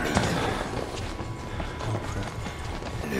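Running footsteps in the horror video game Outlast, a fast steady patter buried in a dense, loud wash of game noise.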